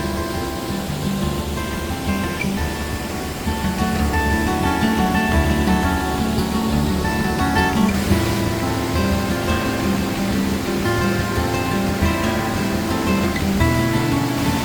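Aira Force waterfall near Ullswater in the Lake District pours steadily in autumn, a loud, continuous broadband roar of falling water that stays close and unbroken throughout.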